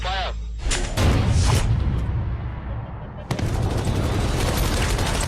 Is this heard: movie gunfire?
yes